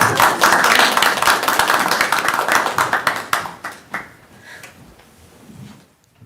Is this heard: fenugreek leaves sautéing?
no